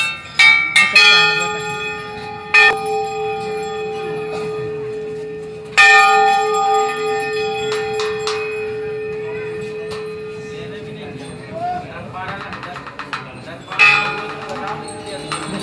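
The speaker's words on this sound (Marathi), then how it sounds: "प्रत्येकाला वाटते की मी घंटा वाजवली त्याच्या घंटेच्या आवाजाने मात्र डोके दुखायला सुरुवात झालेली आहे" Temple bells ring at the Dhari Devi temple in loud, repeated strikes whose bright tones hang and fade between hits, with a crowd murmur and a short burst of further clanging near the end.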